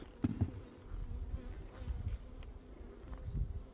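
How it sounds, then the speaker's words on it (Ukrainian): An angry bee buzzes steadily and close by, its drone rising and falling in loudness as it circles, with no voices present. "зла трошки бджола. Зараз облітується."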